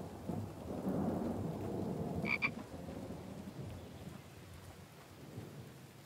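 Steady video-game rain hisses throughout, with a low rumbling swell early on and a short, sharp croaking chirp near the middle.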